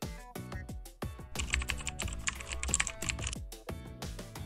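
Names are typed into an Excel spreadsheet on a computer keyboard: close, rapid key clicks come in bursts, then a denser flurry of typing, with no voices.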